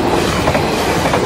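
A train rolls past close by at a station in Nieuwstadt, a loud continuous rumble with rhythmic rail clatter throughout the short stretch.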